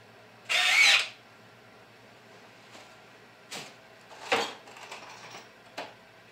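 A Black+Decker 20V MAX LDX120C cordless drill drives a concrete screw: a loud, short whir of the motor, then several fainter bursts of driving and handling noise spread over a few seconds, with no talk.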